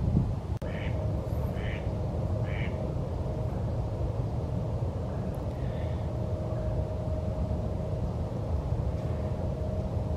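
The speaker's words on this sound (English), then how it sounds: "There's a male mallard duck that just flew in." A male mallard duck gives a few short quacks at a large park pond, faint against a steady outdoor background hum with a distant tonal drone.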